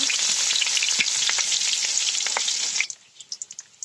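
Chopped onions hitting hot oil in a wok, a loud bright hiss that holds steady and then cuts off abruptly, followed by a few scattered faint crackles.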